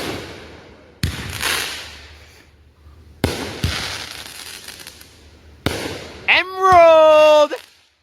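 Fireworks at an Independence Day show burst in three loud booms spaced a couple of seconds apart, each followed by a fading rumble, before a voice rises loudly near the end.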